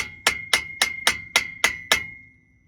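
A hammer taps a front axle dust seal into place on a 2006 Ford F-250, seven sharp metallic ringing strikes at an even rhythm, close and loud, the last ring decaying away.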